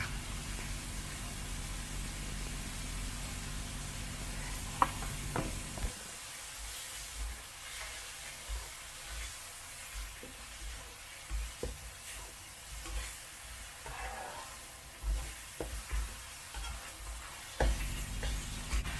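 Minced pork stir-frying in a wok with dark soy sauce and dill, a steady sizzle with the scrape and clatter of a spatula stirring, occasional sharper knocks against the pan, no voices.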